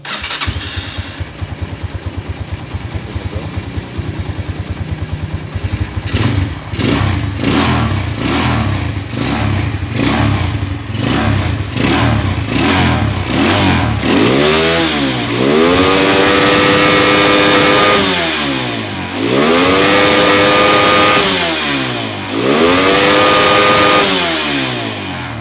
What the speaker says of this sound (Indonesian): RPM mesinnya sangat tinggi, kecepatannya belum bisa dites ya bro ya. Nah, tapi RPM-nya sudah full.